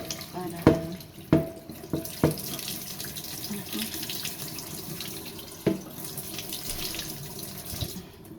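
Water runs and splashes from steamed pechay greens as they drain in a sink, a steady close gush punctuated by several sharp knocks of the pot or colander.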